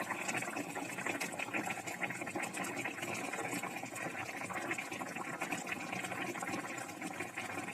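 Steady bubbling and hissing of water boiling in a pot for a carp curry, continuous and fairly quiet, with no voices.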